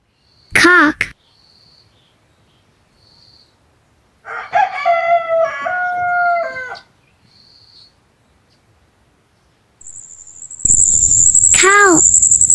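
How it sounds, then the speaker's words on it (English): A rooster crows several times, including a long cock-a-doodle-doo in the middle and a loud one at the end, each alone against faint bird chirps. "cock"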